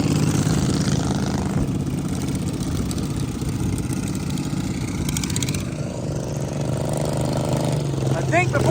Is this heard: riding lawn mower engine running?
yes